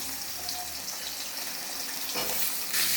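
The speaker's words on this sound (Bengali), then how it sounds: "সাইডে ফুলকপি দিয়ে দিলাম, ওই একসাথে ভেজে নেবো।" Cauliflower and potatoes fry together in oil, giving a continuous dense sizzle that swells louder toward the end, with no voices.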